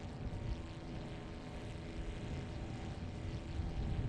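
A propeller airplane engine drones steadily and loudly, a continuous low buzzing roar with no speech.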